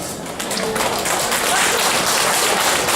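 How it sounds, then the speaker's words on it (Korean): Wedding guests clap loudly and continuously for the groom's entrance, a dense wash of applause from a full hall that holds steady for the whole three seconds. "뜨거운 박수로 축하해 주시기 바랍니다"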